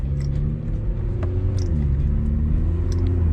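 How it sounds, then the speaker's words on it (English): A car's engine and exhaust drone heard from inside with the windows down while cruising, a steady low rumble with slight pitch shifts and no talking. "Keep the windows down so y'all can hear like some type of exhaust notes"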